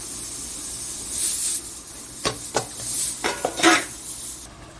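Onion raita being mixed with curd in a bowl, with a run of spoon scrapes and clinks against the dish, a few sharp knocks midway, close up and without speech.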